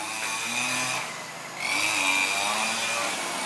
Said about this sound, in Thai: เสียงเครื่องตัดหญ้าดังนิดหน่อยนะ